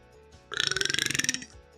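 A single human burp, a drawn-out croaking belch lasting about a second with rapid rattling pulses, loud and close against a quiet background.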